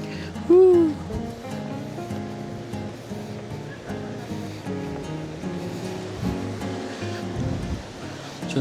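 Waves breaking on Krokoh beach in Jogja form a continuous rushing wash beneath a tonal music bed, with a brief whistle-like sweep near the start.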